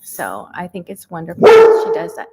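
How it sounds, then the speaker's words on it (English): A pet dog gives one loud, close bark partway through, following a woman's speech. The bark tails off into a short yelping whine. "Oh, sorry, that's my dog."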